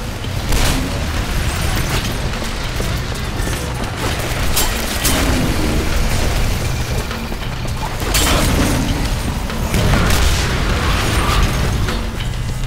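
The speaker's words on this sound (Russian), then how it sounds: "Как-то взрывы очень много наносить стали." Repeated game explosions and booming blasts over a constant mechanical clatter, loud and dense, with several sharp bursts spaced through the clip.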